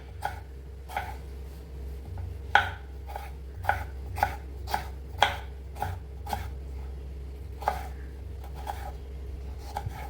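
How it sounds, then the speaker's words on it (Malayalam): A knife chops through tomatoes on a cutting board for biryani, with about fifteen sharp, evenly spaced strikes over a steady low hum, close and clear with no talking. "അപ്പോൾ തക്കാളി ഇതുപോലെ കട്ട് ചെയ്തെടുക്കാം"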